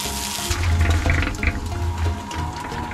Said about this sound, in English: obviously we spray our mixer, because if you leave it unattended like that with no water in it, it'll dry up and ruin your mixer.